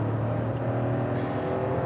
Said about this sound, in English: the 998cc unit sounds playful. It's normally aspirated note, filling the cabin with a characterful 3-cylinder thrum